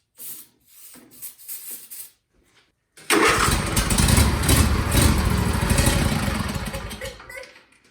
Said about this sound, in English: I'm going to give it some starting fluid and see if it'll fire